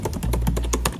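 Typing on a 2021 MacBook Pro keyboard with raised, cushioned keys: roughly eight soft, evenly spaced key clicks over about a second, close and clear with no talking.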